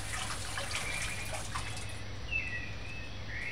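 Ginger root being rinsed under a running kitchen tap, a soft steady stream of water with faint splashing and drips, fairly quiet and close.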